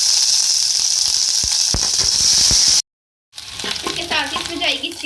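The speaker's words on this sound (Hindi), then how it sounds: "ऑयल में डालूंगी पेस्ट लहसुन अदरक का।" Garlic ginger paste hits hot oil with a loud, close hiss and crackle, a few pops and stirring scrapes, then a brief gap before the sizzle resumes with bubbling sputter.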